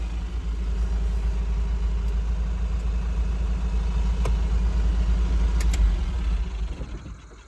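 A car engine idles steadily with a low rumble and some clatter, then cuts off near the end and the sound dies away.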